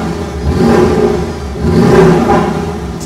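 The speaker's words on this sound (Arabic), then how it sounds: "فهنسمع صوت المحرك" A Porsche Cayman GTS engine revs up twice in close succession, a loud throaty roar rising and falling with no talking over it.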